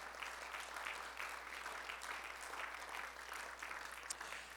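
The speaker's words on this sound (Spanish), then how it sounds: "Dale el aplauso a él." Congregation applauding during a Spanish-language church service after a closing doxology, a steady wash of many hands clapping at even strength for several seconds, heard alone without talk.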